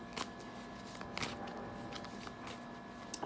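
Tarot cards are shuffled close up in a soft, continuous papery riffle, with a few sharper flicks standing out, quiet and alone.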